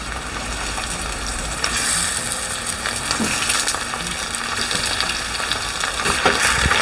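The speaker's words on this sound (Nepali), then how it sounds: "अब मासुलाई भुटौँ।" Meat frying in a pan with already browned onions, a loud, close, continuous sizzle that swells after a couple of seconds, with occasional stirring scrapes and no talking.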